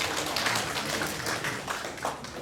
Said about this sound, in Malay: Beri tepukan sekali lagi untuk dia.